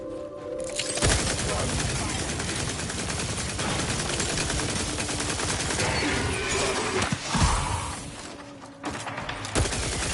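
Sustained automatic gunfire and rapid shots crackle in Outer Worlds 2, loud and dense for most of the stretch with brief dips and sharp impacts near the end, and a voice talks over it at times.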